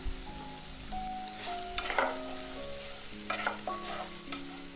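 Capsicum and onion pieces fry in a pan and get stirred now and then, giving a steady close sizzle with a few scraping spoon strokes over soft background music.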